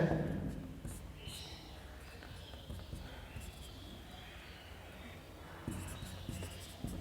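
Handwriting a note, probably chalk or pen on a board during a physics lesson, heard as faint intermittent scratchy strokes that come and go, with quiet room noise and a little talk.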